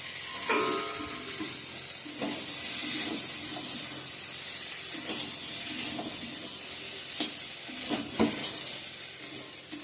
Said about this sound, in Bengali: সোয়াবিন আলুটা ভাজা ভাজা হয়ে গেছে,